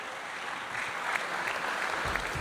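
Applause at the Aito Tu'aro 2023 awards evening for a multiple Pacific Games volleyball and beach volleyball medallist, a soft, distant, steady patter of many hands with no voices.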